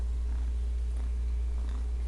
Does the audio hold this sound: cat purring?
yes